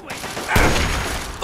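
A loud, harsh burst of gunfire erupts in the Fallout 3 Operation Anchorage combat game, followed by a dense crackling tail.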